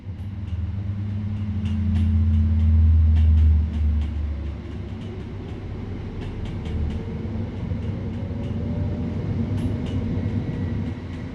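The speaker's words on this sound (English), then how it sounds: "You're currently riding a Class 3774 electric multiple unit." A Class 377 electric multiple unit train in the Train Sim World 2020 game runs along with a loud low rumble that swells and then eases, rail clicks and a rising whine coming through.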